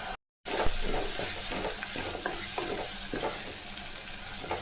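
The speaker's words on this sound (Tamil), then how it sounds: "தக்காளி, சின்ன வெங்காயம் நல்லா வதங்கிடுச்சுங்க." Tomatoes and shallots sizzle as they sauté in a pan for a drumstick leaf soup, with a steady frying hiss and repeated stirring scrapes close up after a brief silent gap at the start.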